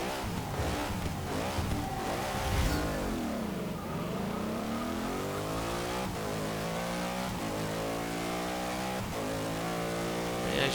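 Jaguar race car with a large rear wing driven at Silverstone in Forza Motorsport 6, its engine revving loud and steady, the pitch climbing through the gears with brief dips at each shift, continuous throughout.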